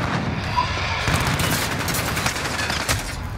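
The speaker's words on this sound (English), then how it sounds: "This is Striker, we're taking some fire." Gunfire in a first-person shooter video game, a dense, continuous fusillade of rapid shots and booms holding steady at moderate loudness across the whole stretch, with no voices.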